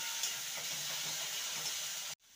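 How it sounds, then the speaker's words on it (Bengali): Pointed gourd (potol) frying in a pan over low to medium heat gives a steady, even hiss and sizzle, close and continuous, cutting off abruptly at the end. "ভালো করে পটলটাকে ভেজে নিতে হবে।"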